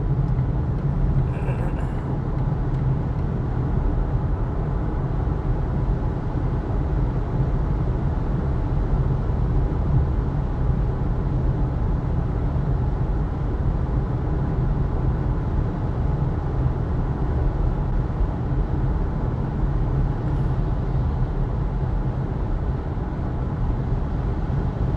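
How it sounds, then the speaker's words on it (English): Steady broadband rumble and road roar fills the cabin of a Volvo XC40 69 kWh front-wheel-drive electric car while driving, tire noise continuous and unchanging throughout. "tire noise"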